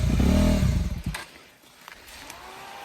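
A motorcycle engine revs hard for about a second while stuck on a steep off-road hill track near a rocky viewpoint, then cuts off, leaving faint clatter and outdoor background.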